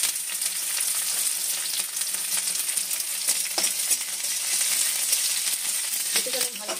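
Onion and capsicum frying in tempered oil, a continuous close sizzle with scattered crackles and light scraping of a spatula against the pan.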